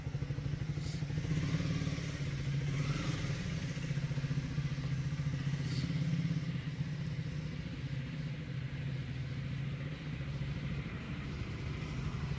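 A new super bike, a Triumph Speed Triple, rides off with a deep engine rumble that swells and then steadily fades as it moves away, with no talking over it.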